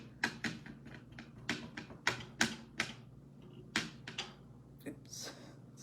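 Embossing ink tapped across a card in white: a series of sharp, close light taps in an irregular rhythm, about a dozen distinct knocks over a quiet background.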